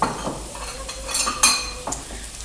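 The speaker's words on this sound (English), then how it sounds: "I want you to then mix a tablespoon of yogurt, right?" A spoon mixes three tablespoons of yogurt into a crunchy dish, with close scraping and clinking against the bowl, a few sharper knocks coming near the end.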